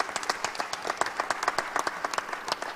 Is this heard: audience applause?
yes